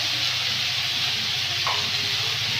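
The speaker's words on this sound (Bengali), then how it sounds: "মুলোটা ভেজে নেব" Radish from the garden, seasoned with turmeric and salt, frying in oil in a village kitchen, giving off a steady, even sizzle and hiss throughout with a low background hum.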